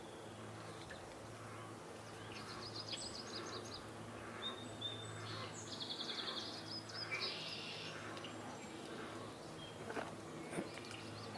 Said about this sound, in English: I just heard a wood thrush.